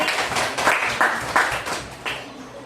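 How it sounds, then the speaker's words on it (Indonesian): A small group of students claps in a few short bursts of applause in a classroom, lasting only a couple of seconds. "Tepuk tangan buat Mas Fahri."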